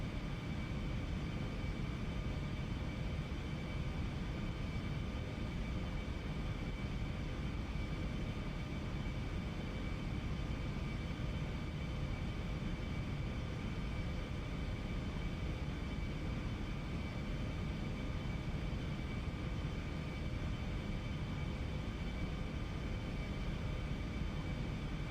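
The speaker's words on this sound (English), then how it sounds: "Aircraft is bumping about a little bit." Eclipse jet aircraft in flight, a steady, unbroken cabin roar with a faint high whine, constant and even throughout with no talking.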